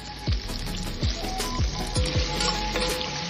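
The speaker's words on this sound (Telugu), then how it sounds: "అందులోనే మనం పన్నీర్ పీసెస్ వేయించి ఫ్రై చేసుకుందామండి." Small paneer pieces fry in masala, sizzling steadily with a bubbling, crackling texture punctuated by several soft thuds or drops.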